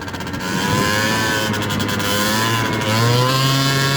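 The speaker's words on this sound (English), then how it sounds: "Turns into a little bit of a 2-stroke revving beast." A 70cc two-stroke engine with lightweight transmission rollers revs hard off-road near a creek, a loud continuous buzzing whine climbing in pitch as it accelerates, close up and alone.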